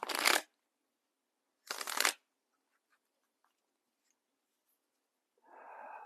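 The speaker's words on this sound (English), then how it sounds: "I think it's one more shuffle and away we go." Two quick bursts of tarot cards riffling together, separated by silence, then a softer rustle at the end; close and fairly quiet, no voices.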